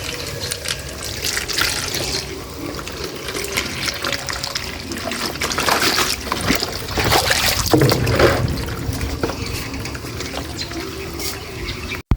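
Water runs steadily into a tub for washing a dry-clean suit at home, a continuous splashing, trickling flow close by, swelling a little louder midway, with no talk.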